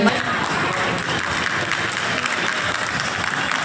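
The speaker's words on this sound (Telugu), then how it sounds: "మీ యొక్క కష్టానికి ఎంత గట్టిగా క్లాప్స్ కొడుతున్నారు" An audience claps steadily and densely after a classical dance performance at a Karthika Masam community picnic gathering in Miyapur, a continuous wash of applause from many hands.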